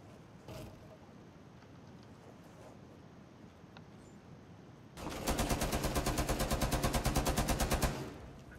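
Automatic gunfire in Rainbow Six Siege: after a quiet stretch with faint clicks, a loud, rapid, evenly spaced burst of shots runs for about three seconds, then stops.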